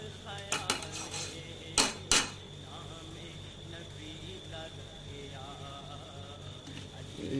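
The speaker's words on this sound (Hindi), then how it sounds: "इसको अभी हम अच्छे से भून लेंगे" Mash daal being fried and stirred in a pot: a few quiet metallic clinks and scrapes of a spoon against the pot over a soft, steady background.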